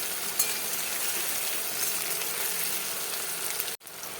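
Tomato frying in a pan for a flattened rice (chire) dish gives a steady, close sizzle that runs evenly and breaks off abruptly near the end before resuming.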